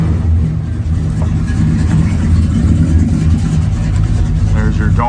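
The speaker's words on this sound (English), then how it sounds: "Got good sound, dual exhaust." A Dodge Li'l Red Express tribute pickup truck engine with dual exhaust runs with a deep, steady low rumble and a slight rise in revs, loud and close, with no clear speech.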